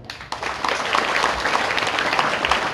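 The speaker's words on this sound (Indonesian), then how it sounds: "Tepuk tangan dulu" Students applaud during a character-education session at a junior high school, SMP N 2 Purworejo. A roomful of clapping starts abruptly and swells into a loud, dense, sustained patter.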